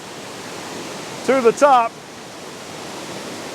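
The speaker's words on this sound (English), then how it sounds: "Middle Creek Falls. What an awesome place." Steady broadband rush of Middle Creek Falls, a waterfall near Chattanooga, filling the whole clip at a constant level, with someone speaking briefly over it midway.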